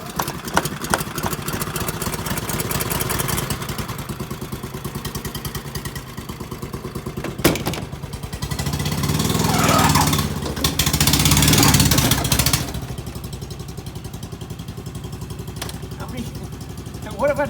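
A Canta LX microcar's small engine cranks with rapid clattering, catches, then runs at a rough, uneven idle that swells briefly louder before settling back, with people talking nearby.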